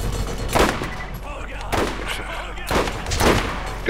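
Bursts of gunfire in Borderlands during a co-op shootout, several loud repeated volleys in uneven bursts with some faint voices mixed in.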